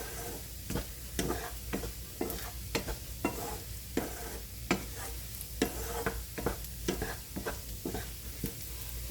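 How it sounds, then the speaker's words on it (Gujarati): Edible gum and fenugreek seeds roast in a pan over a low flame, with a soft steady sizzle and repeated light scraping taps of a spoon stirring, faint and close, no talk. "એટલે આપણે ધીમા ગેસે શેકીએ એટલે થોડીક વાર લાગે."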